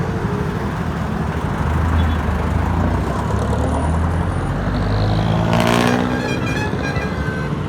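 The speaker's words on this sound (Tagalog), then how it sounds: "Traffic kahit kailan talaga, kahit gabi." Dense night traffic on a city road, heard from a Mio Gear 125 motorcycle: a steady, loud wash of car, motorcycle and truck engines with a passing vehicle swelling near the end, no talk.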